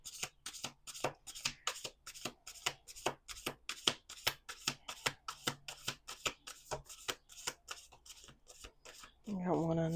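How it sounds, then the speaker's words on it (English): A deck of angel oracle cards is riffle-shuffled again and again in a quick, even rhythm of crisp slaps, close and fairly quiet, with a brief different rustle at the very end. "So I'm just going to do a couple shuffles,"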